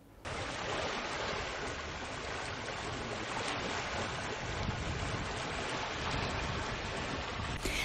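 Steady broad rush of River Nile water flowing in Jinja District, Uganda, a continuous loud wash with no pauses, close and unbroken for several seconds.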